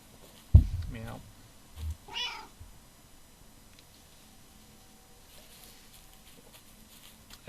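A cat meows in the video game Kentucky Route 0 with a few short, fairly quiet calls spaced over several seconds against a hushed background, with voices nearby.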